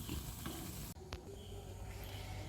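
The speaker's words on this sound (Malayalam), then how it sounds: "ഓയിൽ ചൂടായിട്ടുണ്ട്. ഇതിലേക്ക് നമുക്കിത് ഓരോന്നായിട്ട് വെച്ച് കൊടുക്കാം." Steady, dense sizzling of tuna fish cutlets frying in hot oil, with a brief dip and a small clink near the start; close and continuous, no talking.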